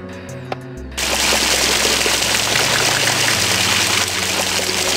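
Water sprays steadily from a hose in the point-and-click video game Polda 2, a loud, dense hiss that starts abruptly after a second of quieter game sounds and holds constant, with low tones underneath.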